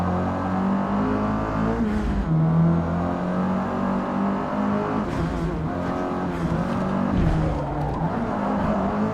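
A race car in Forza Motorsport roaring loudly and steadily as it brakes hard and shifts, engine pitch dipping and rising with faint tire scrub throughout.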